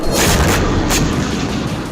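A Hezbollah rocket strike explodes in Israel: a loud, continuous roaring blast that fills the whole clip with a dense rumble and no speech.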